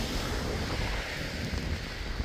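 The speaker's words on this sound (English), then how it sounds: "The wind is insane out here right now, guys. I'd say probably 30, 35 mile an hour gust." Strong gusty storm wind with heavy rain, roaring and buffeting the microphone as a loud, continuous rush with no voices.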